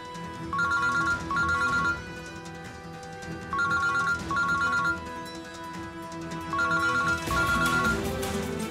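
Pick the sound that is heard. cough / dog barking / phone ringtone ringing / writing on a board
phone ringtone ringing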